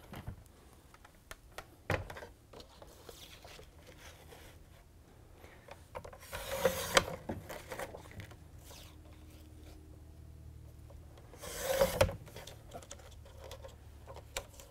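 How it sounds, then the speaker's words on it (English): Paper cutter slicing through ticker tape paper, two short, crisp swishing cuts several seconds apart amid quiet creaks and handling clicks, close by. "we're going to slice that part on our cutter"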